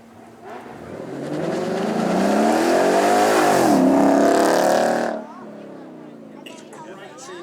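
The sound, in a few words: Ford Mustang convertible 5 litre V8 engine revving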